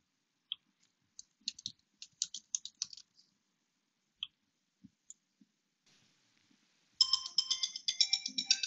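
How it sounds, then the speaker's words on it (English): Cell phone ringing with an incoming call: after scattered keyboard clicks and taps, a bright electronic ringtone starts abruptly and repeats loudly and rhythmically to the end. "As you can hear, I'm receiving a call"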